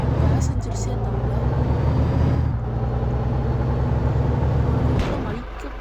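A bus engine in the Indonesia Bus Simulator video game, running in Tamil Nadu traffic mode, drones steadily at low pitch and fades slightly toward the end. A voice speaks over it throughout.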